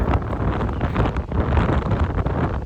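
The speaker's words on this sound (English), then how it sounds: "right now, there's gusts of 100 kilometers an hour" Loud, continuous wind gusting to 100 km/h buffeting the microphone, with rough gusty surges and roaring low rumble throughout, no voices.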